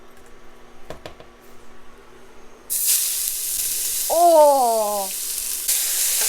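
Drained onion dropped into a hot pan while cooking chole, bursting into a loud, steady sizzle and hiss partway through and carrying on to the end, with a short exclamation and a brief tonal squeal heard over it.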